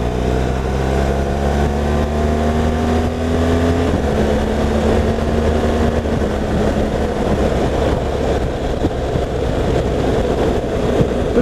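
A motorcycle engine pulls hard under acceleration, its pitch rising steadily, then a smooth gear change drops the tone near four seconds before it climbs again, loud and close with wind noise.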